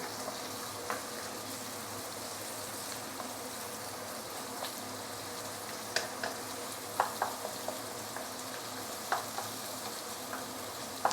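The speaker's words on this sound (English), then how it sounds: "Now I'm actually adding in the fresh herbs that we cut just now, together with the dried herbs. Saute this a bit." Fresh and dried herbs sautéing in a pan for braised pork, a soft, steady sizzle with occasional stirring clicks and scrapes, fairly quiet and with no talking.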